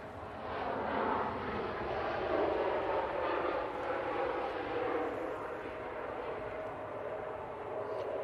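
A KLM airliner floats briefly before touching down at Manchester Airport, a moderate, distant jet roar that swells and then holds steady in a broad wash of engine noise.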